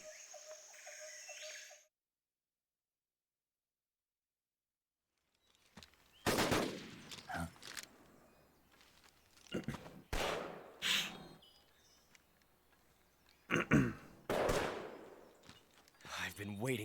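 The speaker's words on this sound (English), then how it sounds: "I heard 6 shots." Sharp gunshots in Metal Gear Solid 3, fired in irregular single cracks and short clusters after a stretch of near silence, with a voice talking between the shots.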